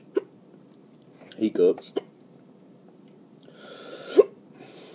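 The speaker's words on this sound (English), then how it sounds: "I always get hiccups from just about anything." Hiccups from a man tasting garlic and horseradish hot sauce, a few short sharp gulping catches spaced irregularly in a quiet room, with a brief spoken phrase among them.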